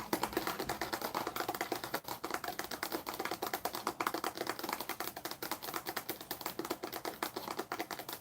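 Rapid, continuous typing on a computer keyboard, dense close clicking keystrokes in an unbroken stream with no voices.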